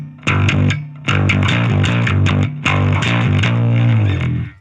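Bass guitar runs through a distortion pedal into an amp, giving a gritty, nasty, heavily driven tone as a riff of sustained notes plays in three phrases with short gaps, loud and up close.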